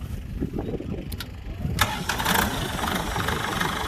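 Kubota L4708 tractor engine running with a low, rumbling idle close by; partway through, sharper clatter and rising mechanical noise join the steady drone.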